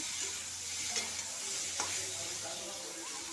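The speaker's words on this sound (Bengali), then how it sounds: "হালকা করে ভেজে নেব" Mango pieces fry lightly in a pan for a thin raw mango curry, a steady soft sizzle with faint stirring scrapes, close and fairly quiet, no voices.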